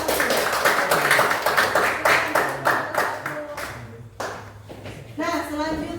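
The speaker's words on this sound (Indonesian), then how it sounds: "beri tepuk tangan untuk kelompok" A small classroom group claps rhythmically in unison for a presenting group, with steady, evenly spaced claps that slow and break apart, followed by children's voices talking.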